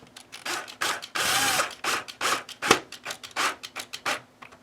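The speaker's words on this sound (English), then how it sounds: "I got my drill out." An electric drill drives screws into the neck of a 2022 Fender Mustang guitar, with short close-up whirring bursts, ratcheting clicks and rasping between brief pauses.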